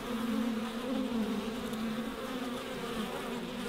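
Honeybees buzzing steadily at an open overwintered beehive in the far north, a dense, continuous close drone with no voices.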